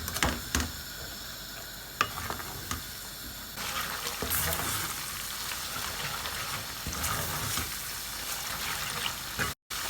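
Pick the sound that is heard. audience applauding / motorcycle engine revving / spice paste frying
spice paste frying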